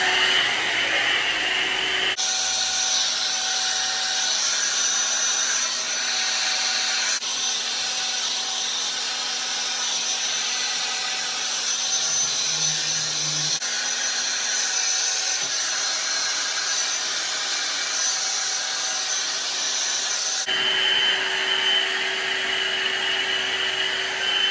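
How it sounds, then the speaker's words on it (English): A handheld hair dryer fitted with a Diva Curl diffuser dries curly hair with a loud, steady whirring blast that holds for about eighteen seconds, its tone shifting briefly at the start and end. "let me do a couple, let me dry it for you guys"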